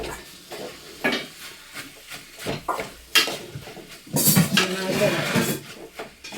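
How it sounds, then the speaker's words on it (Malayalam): A spoon stirs food in a metal cooking pot, giving repeated scraping clanks and knocks of utensil on pan, close and loud with a faint sizzle beneath and no talk. "നന്നായിട്ട് നന്നായിട്ട് ഇളക്കി നന്നായിട്ട് ഇളക്കി കൊടുക്കാം കേട്ടോ"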